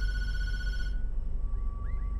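A telephone rings in the horror video game Tattletail, a steady electronic trill that cuts off after about a second, over a loud low rumbling ambience with faint chirps afterwards.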